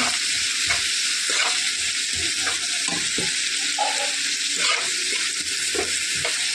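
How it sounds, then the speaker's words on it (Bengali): Katla fish, salted and stirred while it fries in oil, makes a loud, continuous sizzle close by, with softer stirring strokes scraping through it at irregular intervals. "পরিমাণ মতো লবণ দিয়ে নেব। নাড়াচাড়া করে নেব।"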